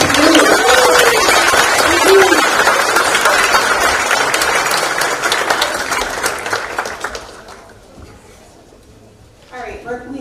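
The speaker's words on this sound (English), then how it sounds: "let's get another round of applause for Roll" An audience applauds loudly in a school symposium hall, steady dense clapping that fades out toward the end before a voice begins speaking.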